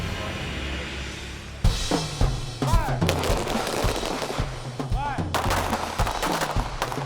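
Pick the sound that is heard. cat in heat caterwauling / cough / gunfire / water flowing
gunfire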